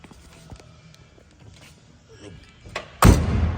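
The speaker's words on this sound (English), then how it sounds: "Doors open and close beautifully." A 1971 Oldsmobile 442 W-30's door shuts with a single solid thud near the end, preceded by quiet handling clicks and rustles close by.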